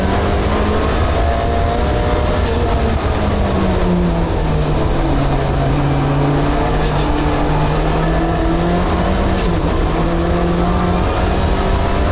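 Race cars drive past after the checkered flag, engines holding a loud continuous drone with pitch rising and sliding as they accelerate and pass, heard without any talking.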